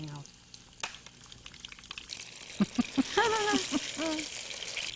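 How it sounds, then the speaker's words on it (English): Potato browns in very hot oil at a Kolkata street food stall, giving a soft steady sizzle with scattered pops and crackles. A voice talks partly over the frying. "So you just fry it like everything is cooked, so you just need to brown it basically"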